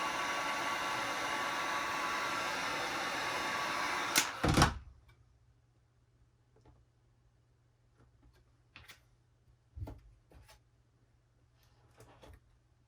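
A heat gun warming a vinyl graphics wrap on a Pro Boat React hull blows a steady, loud airy roar for about four seconds, then cuts off abruptly, leaving quiet with a few faint handling clicks and knocks.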